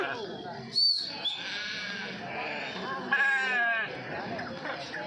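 Lambs and sheep bleat repeatedly at a busy sheep and goat market in Kadiri, with several drawn-out calls rising close by over a constant murmur of people talking.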